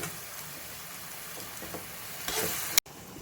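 Mushrooms frying in a pan for a mushroom curry, with a steady sizzle and soft stirring scrapes, a louder hiss swelling near the end before cutting off abruptly, without talk.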